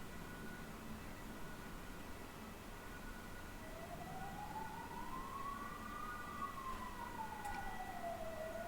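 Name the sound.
ambulance sirens passing outside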